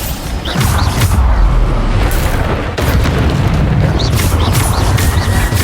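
Repeated Bombarda blasting-spell explosions boom through a Hogwarts Legacy battle, several heavy bursts over a dense, continuous rumble of combat noise, loud and close.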